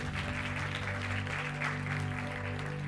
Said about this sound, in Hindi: एक बार तालियां बजा दो यार